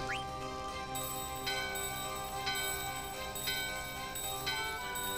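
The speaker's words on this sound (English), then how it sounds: "let's ring the bell." A bell in the Final Fantasy 9 video game rings out with bright, sustained metallic tones that strike again roughly once a second and leave a shimmering decay between strikes.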